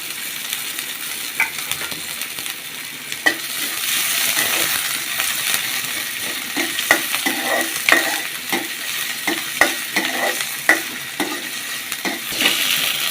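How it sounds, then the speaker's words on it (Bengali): Chopped onions frying in hot oil in a pan, a steady close sizzle with sharp spoon clicks and scrapes against the metal as they are stirred, no voices. "তেল দিয়ে নিলাম। পেঁয়াজ কুচি দিয়ে দিলাম।"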